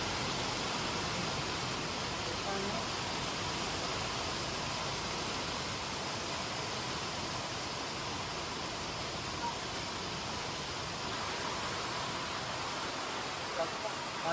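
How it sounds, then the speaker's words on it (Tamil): Rain pours steadily through the jungle on a safari drive, a dense, even hiss that stays constant and fairly loud from start to finish with no clear breaks. "மழை பெய்யுது."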